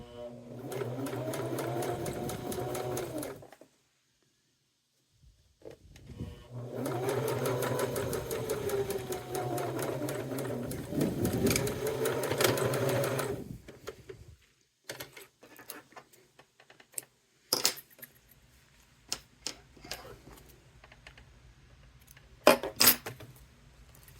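A sewing machine stitches a cork wallet in two long steady runs of rapid whirring, separated by a brief pause, followed by scattered clicks and handling noises as the fabric is adjusted.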